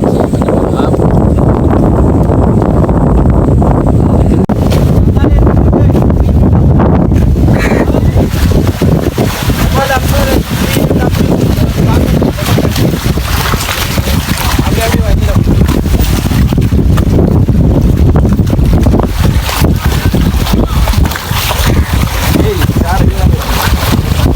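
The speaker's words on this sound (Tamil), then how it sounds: "காற்று அடிக்கிறதால அலை அடிக்கிறது" Steady rush of wind buffeting the microphone with waves splashing throughout, loud and continuous, voices faintly under it.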